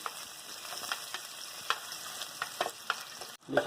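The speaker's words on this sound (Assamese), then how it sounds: "অকণমান ৰঙচুৱাকৈ মই পিঁয়াজখিনি ভাজি ল'ম" Onions sizzle steadily in hot oil in a kadai for an Assamese-style local chicken curry, with a soft continuous crackle and occasional stirring scrapes, close but fairly quiet.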